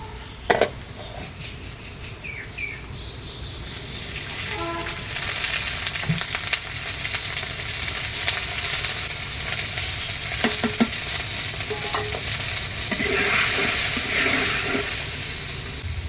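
Taro stolon (lati) chorchori frying in a pan, a steady loud sizzle with stirring scrapes and occasional clinks that grows denser partway through, with no talk.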